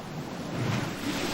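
Sea waves wash steadily in a continuous broadband roar with some wind, no voices, close and fairly loud throughout.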